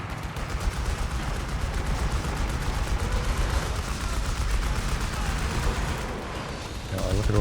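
A walking Stuka rocket artillery barrage in Company of Heroes 3 pounds the battlefield with a dense, continuous rattle of rocket impacts and explosions, loud and sustained, while a commentator talks over it.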